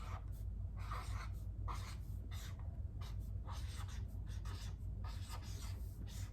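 A marker squeaks and scratches as the word rectangle is written by hand, with short separate strokes in an uneven rhythm over a steady low hum.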